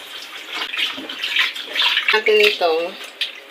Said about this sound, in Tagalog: Tubig na may salt. Yan ang ipanghuhugas natin.